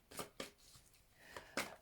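A deck of cards being shuffled for a tarot reading, heard as a few quick, soft riffling swishes spaced apart, faint and close in a quiet room.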